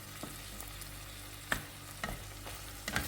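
Feta cheese cooking in a pan gives a soft, continuous sizzle close by, broken by a few light scrapes or taps from a utensil, with no talking.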